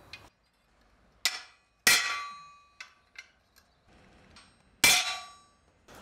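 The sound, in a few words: blacksmith splitting hot iron strap with a chisel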